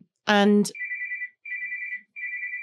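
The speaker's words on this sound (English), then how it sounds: "oh, my phone's ringing." A phone ringtone plays in three steady, high electronic trilling bursts separated by short gaps, following a brief burst of voice at the start.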